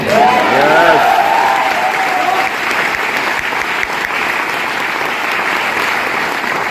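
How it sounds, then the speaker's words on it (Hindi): Audience applause at a Vestige direct-selling company event, steady and loud throughout, with cheering voices rising above it near the start. "थैंक यू सो मच आपकी तालियों के लिए"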